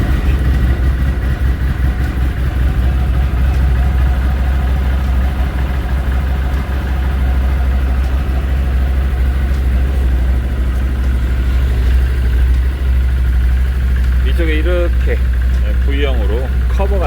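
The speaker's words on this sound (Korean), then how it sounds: "이게 소리로 V형 이기통 엔진음을 느끼실 수있을런지잘 모르겠지만 그래도 걸어 보겠습니다" A V-twin engine on an ODES Pathcross 650 idles with a low, steady rumble throughout, close and loud, with a voice speaking briefly near the end.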